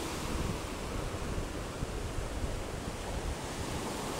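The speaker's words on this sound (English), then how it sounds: "we can just take in the sound and the energy and the frequency of the water." Steady roar of ocean surf washing onto Malibu Beach, California, continuous and fairly loud, with wind rushing over the microphone throughout.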